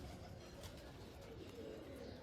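Pigeons coo softly on a rooftop loft as released birds, including tumbler-type fancy pigeons, return to settle; a low, steady murmur of cooing runs throughout amid faint background noise.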